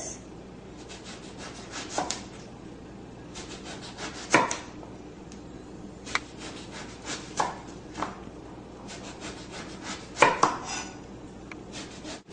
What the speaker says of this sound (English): start off by taking off the front and cut into round discs,